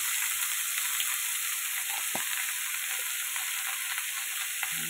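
Turmeric and salt frying in a pan, giving a steady, even sizzle that holds at one level throughout, with a few soft stirring clicks and no talking.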